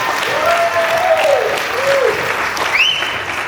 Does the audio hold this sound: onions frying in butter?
no